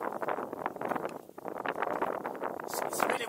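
Gusty wind blows outdoors in northern Spain, buffeting the microphone with a loud, steady rush that dips briefly before surging again.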